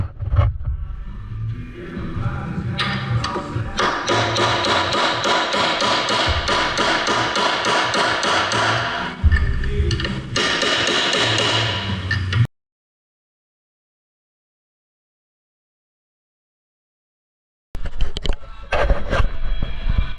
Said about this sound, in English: sometimes the bearings get jammed up a little bit on the spindles, so we just take a chisel or a punch around here, just kind of help that bearing on some